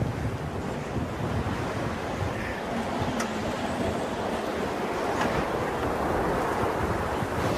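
Wind-driven waves on Nové Mlýny lake, a continuous broadband wash of surf mixed with heavy wind buffeting the microphone, steady and loud throughout with no talking.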